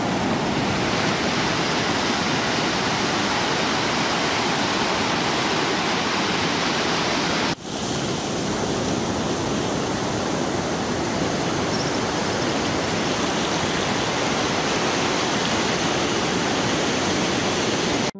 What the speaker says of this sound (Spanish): Las olas en las playas marinas.